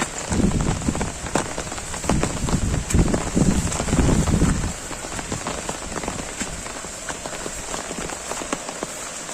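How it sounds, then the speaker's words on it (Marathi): Heavy monsoon rain pours down on a Konkan village, a dense, steady hiss of drops drumming on surfaces that is loudest in the first half and then eases to a softer, even downpour, with no voices. "कारण आता पावसानं आता मेन खरी म्हणजे सुरुवात झालेली आहे"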